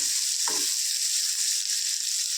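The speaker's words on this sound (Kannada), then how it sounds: "ಈರುಳ್ಳಿ ಎಲ್ಲ ಚೆನ್ನಾಗಿ ಸ್ವಲ್ಪ ಕಲರ್ ಚೇಂಜ್ ಆಗಿ ಫ್ರೈ ಆಗಬೇಕು" Onions frying in a pan for a drumstick gojju, a steady high hissing sizzle heard close, with one short soft knock of a utensil early on.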